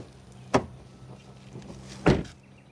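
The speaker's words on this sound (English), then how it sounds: "let's listen to the sound of the closing door" Two solid thumps as the doors of a 2025 Jaguar F-Pace SVR with a 575 hp engine are shut, about one and a half seconds apart, close and distinct over a low steady hum.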